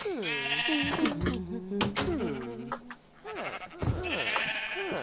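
Sheep bleat repeatedly in a pen inside a video game, their wavering, strongly voiced calls overlapping and fairly close, with a short quieter pause midway before more bleats.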